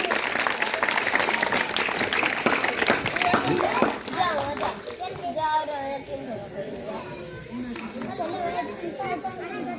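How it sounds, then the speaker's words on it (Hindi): Audience at a Sankalp Diwas gathering for Babasaheb Ambedkar applauds loudly with dense, sustained clapping for about four seconds, then the applause thins into scattered claps under crowd chatter and children's voices. "आप लोग ताली बजाइए"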